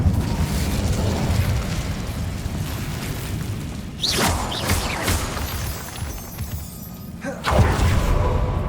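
Incendio fire spell cast in the Hogwarts Legacy video game: a loud, dense roar with sharp bursts flaring up around the middle and again near the end, over a constant rumbling backdrop.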